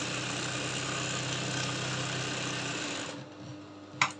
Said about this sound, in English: And I'm going to also sew straight.